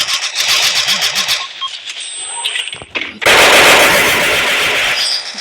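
Gunfire and a grenade blast from the Free Fire battle royale game, with rapid machine-gun bursts followed by a loud, sustained explosive roar in the second half.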